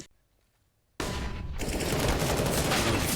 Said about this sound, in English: Oh, shot missed here from Headtrick.